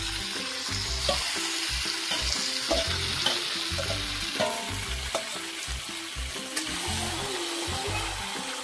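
Marinated duck meat sizzles in hot oil with fried onions for a home-style duck curry, a steady frying hiss broken by repeated scraping stirs and clanks of the spoon against the pan.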